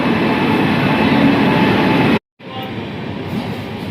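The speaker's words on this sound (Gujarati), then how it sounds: "આપણે ટ્રેન આવી ગઈ છે આપણે ટ્રેનમાં બેસવાના છીએ હવે" A passenger train arrives at a station, a loud steady rumble of rolling rail cars that cuts out briefly then resumes at a lower level, close by and dominating the scene.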